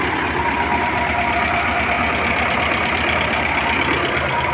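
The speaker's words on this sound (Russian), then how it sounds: "Вот он, холодный запуск. Холодный запуск трактора." An LTZ-60AB tractor engine idling after a cold start, a loud, steady, close diesel rumble with an even knocking rhythm and no voices.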